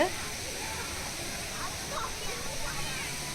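Steady, dense rush of falling water from a waterfall at Courtallam fills the whole clip, loud and close, a constant roar with faint splashing textures on top.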